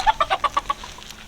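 Farmyard chickens cluck in a quick, loud burst of about half a dozen calls close by, then trail off into fainter clucks.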